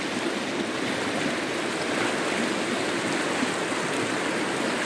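The Banias river stream in the Hermon reserve rushes steadily in a loud, continuous broadband wash of flowing water, close by and without voices.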